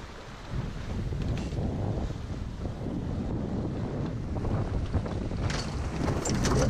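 A sailboat jibing offshore in 25-knot wind under self-steering gear, with a steady loud roar of wind buffeting the microphone and rushing water and waves throughout, no voices.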